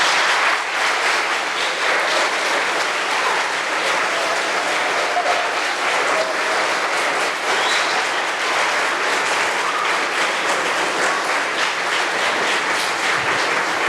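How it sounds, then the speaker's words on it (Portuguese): Sustained, dense applause from a large church congregation honoring its leaders, steady and loud throughout with no talk over it. "você pudesse aplaudir esses homens e essas mulheres"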